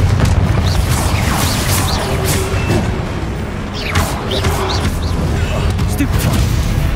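Explosive Confringo spell blasts in Hogwarts Legacy combat, a dense roar of booming impacts and crashes mixed with layered action noise, loud and continuous throughout.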